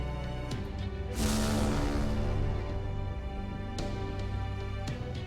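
A whale crying in pain in the Fate/Grand Order video game, a long, eerie tonal wail over a droning musical backdrop, swelling loudly then slowly fading, with no talk.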